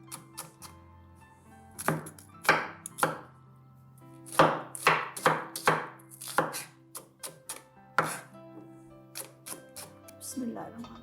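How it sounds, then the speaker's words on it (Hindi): Small onions being chopped on a cutting board in a home kitchen, sharp knife thuds in quick irregular bursts of several strokes with short pauses, loud and close, while someone speaks between the cuts. "बर्तन हीट थ्रू हो जाए उतनी देर में हम प्याज कट कर लेते हैं"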